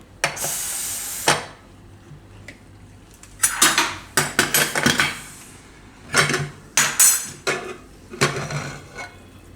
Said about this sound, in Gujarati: હું તો કુકર આપણે નીચે ઉતારી લીધું છે ખોલીને જોઈ લઈએ